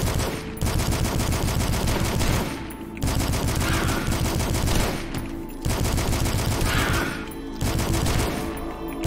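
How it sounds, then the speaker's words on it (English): Machine gun fire in the game Dusk: several long sustained bursts of rapid, loud shots separated by brief pauses, close and dominant, with no talk over them. "I keep switching to my machine gun"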